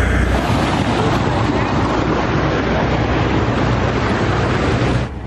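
Tender boat carrying passengers ashore from a cruise ship at Skagway: a loud, steady engine and water roar with wind buffeting the microphone, continuous until it cuts off near the end.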